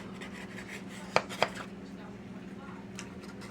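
Two sharp metallic clinks, close together, ring out as a cranberry orange pecan loaf baked from a box-cake mix is worked free of its metal pan, set against a quiet steady background hum in a home kitchen.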